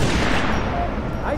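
Gunfire in Halo 3 ODST: a dense, loud burst of rapid shots and bangs packed through the short moment, with voices mixed in over the battle noise.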